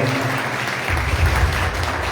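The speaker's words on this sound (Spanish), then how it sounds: "un aplauso" Applause from an audience at a cultural gathering, steady, full clapping that swells a little louder partway through and carries on to the end.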